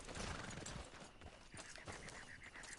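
Horse hooves clopping in Red Dead Redemption 2 as a horse is brought to a hitching post at camp, soft irregular steps under a dense bed of game ambience and occasional clatter.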